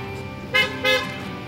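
Two short car horn toots sound in quick succession over a low street hum on a street in China.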